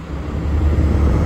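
A bus rolls toward the camera on a road, a loud low engine rumble with tyre and road noise building steadily over a second or so, no speech over it.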